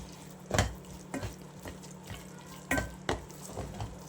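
A spoon stirs and mixes roasted eggplant bharit after crushed peanut powder is added, giving several distinct scraping knocks against the pan spaced across a few seconds over a low hum.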